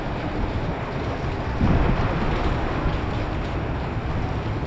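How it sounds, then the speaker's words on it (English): Heavy rain pours onto Bocage Street in Macau as a dense, loud, steady roar of broadband hiss, continuous throughout with no talk. "the rain is really coming down now"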